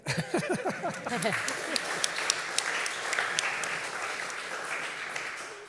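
An audience at a book launch applauds, with a steady wash of clapping and a few sharper individual claps. Brief speech opens the clip before the applause settles to an even level.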